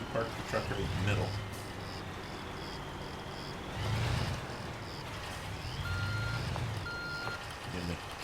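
A truck in Construction Simulator reverses into a parking spot, its beeper sounding in a few short evenly spaced bursts over a low engine rumble, with someone talking at moments.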